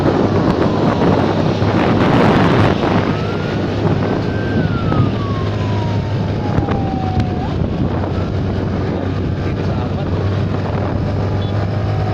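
An ambulance siren wails in one long falling sweep over heavy wind and road rumble, heard from inside or near a moving vehicle.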